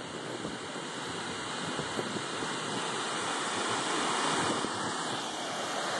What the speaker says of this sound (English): Yellowstone's second highest waterfall.